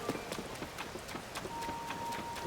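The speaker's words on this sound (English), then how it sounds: "And it's raining here." Rain patters in the Zelda: Tears of the Kingdom video game, a soft continuous hiss with scattered light taps and faint footstep-like clicks, quiet and even throughout.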